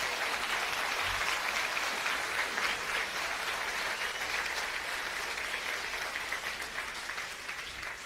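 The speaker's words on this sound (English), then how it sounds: "I didn't want no applause on that." Sustained applause from a live concert audience at the Sabre Room in Chicago, a steady dense wash of clapping that holds for several seconds and slowly tapers off.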